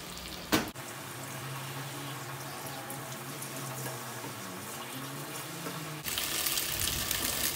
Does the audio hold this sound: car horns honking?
no